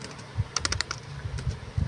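Switchport commands are tapped out on a computer keyboard, a close run of crisp key clicks clustered together in one burst with a few lighter taps before and after.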